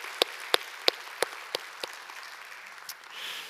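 A handful of faint, evenly spaced hand claps sound during a Korean church service on Parents' Sunday, steady at first, then trailing off into quiet room tone.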